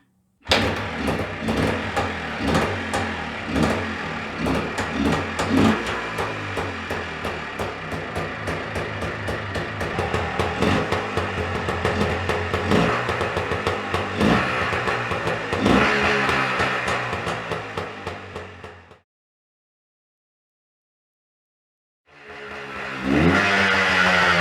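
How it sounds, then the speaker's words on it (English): A Yamaha TY250R trial motorcycle's two-stroke engine runs close and loud for nearly twenty seconds with uneven revving bursts, then cuts out abruptly into silence before a second burst of running resumes near the end. "I'm going to do this by running the engine till it empties the carb"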